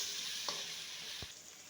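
Onion and tomato fry in oil with garam masala, a soft steady sizzle close by with two brief scrapes of a stirring spoon.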